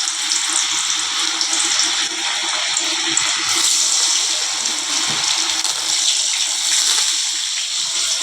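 Tiny ayirai fish coated in JP masala fry in hot oil, a loud, dense, continuous sizzle and crackle close by, steady throughout with no voices.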